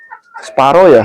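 A Sumatra chicken rooster gives a few short clucks, then a loud, close, drawn-out crow, with a brief spoken remark just before.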